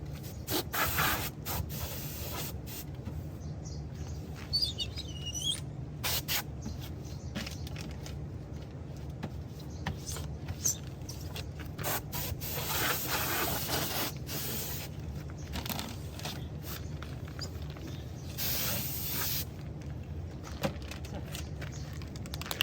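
Aerosol spray paint hisses in bursts as a coat of paint goes onto the chrome trim of a 2020 Nissan Rogue special edition, over a steady low hum, with no talking.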